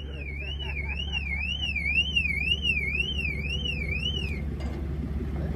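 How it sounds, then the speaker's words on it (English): A Bentley's car alarm wails with a rapid up-and-down warbling tone, loud and steady for several seconds before cutting off abruptly, leaving a low rumble of background noise. "That's it for the alarm?"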